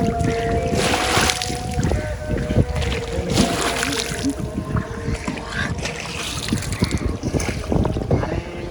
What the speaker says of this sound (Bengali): নৌকা নৌকা বাতাসে দুলতাছে, নদীতে অনেক স্রোত